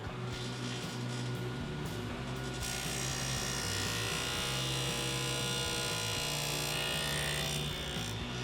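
A table saw fitted with a dado stack runs with a loud, dense whine and makes a test cut through a piece of wood, the pitch and grind shifting as the blade bites into the board.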